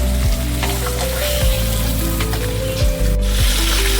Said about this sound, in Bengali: কড়াইয়ে তেলটা গরম হয়ে গেছে, এবার আমি মাছগুলোকে হালকা ভেজে তুলে নেব